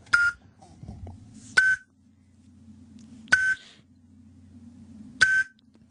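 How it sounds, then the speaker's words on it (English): A smoke detector chirps for a low battery, four short sharp beeps spaced roughly two seconds apart over faint background murmur. "One of the smoke detectors, the battery."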